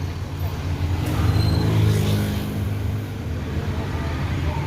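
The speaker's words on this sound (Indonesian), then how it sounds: "Firkansa 87 bus terbaru dari PT MPM." A new Firkansa 87 bus built by PT MPM rolls past with a steady, loud low engine drone and road rumble that swells slightly mid-way, with faint crowd hubbub in the background.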